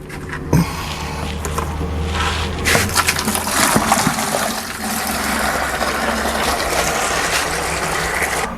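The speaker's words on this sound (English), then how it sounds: "it's time to drain this and get all the goopy water out" Dirty water drains from a portable off-grid washing machine in a steady, loud gush and splash with a low gurgling rumble, running continuously with a few knocks and clunks along the way.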